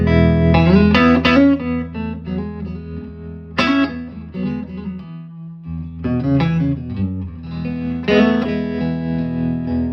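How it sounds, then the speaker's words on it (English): An electric guitar played through an Achillies Zephyr 15 amp rings out in chords and picked notes with lush spring reverb and a pulsing tremolo, alone and at full volume. "Gorgeous spring reverb, and then there's also the tremolo, which is equally as beautiful."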